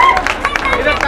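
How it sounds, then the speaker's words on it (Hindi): Loud crowd clapping and murmuring voices as an audience welcomes a guest onto the stage, a steady dense wash of applause mixed with chatter throughout. "और जोर से तालियां बजाइए, स्वागत कीजिए।"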